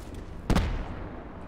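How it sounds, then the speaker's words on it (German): A single sharp gunshot or blast in the battle royale mode of Call of Duty Black Ops 4, a loud close burst with a short decaying tail, heard alone. "Hinter uns wird geschossen."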